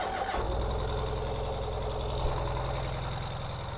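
A 2023 Ural Gear Up motorcycle engine cranks on the starter and catches within half a second, then settles into a steady, loud, even idle close by.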